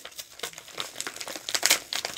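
A package of crochet materials being opened, with dense close crinkling and crumpling of plastic wrap in quick irregular bursts, fairly loud, with no talk over it.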